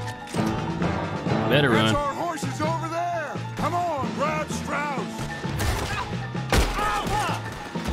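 Gunfire during a shootout in Red Dead Redemption 2, with a few sharp cracks scattered among game sounds, partly under excited talk from players.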